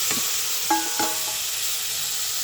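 Cauliflower masala being stirred in a frying pan, with a soft scraping stir and a low sizzle of frying spices, heard close and steady with no voices.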